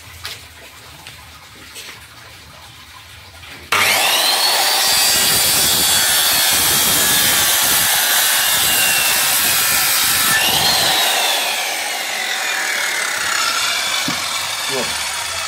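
A Ryu RCS 185-1 circular saw cuts through wood with a loud, sustained whine that starts abruptly after a quiet moment, runs steadily for several seconds, then eases slightly as the cut finishes.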